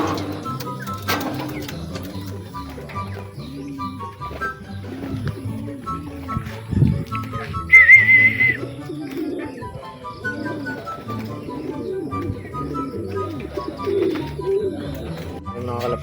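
Racing pigeons coo in soft, layered, repeated calls while being caught by hand, close and steady, with a brief flutter and occasional faint chirps.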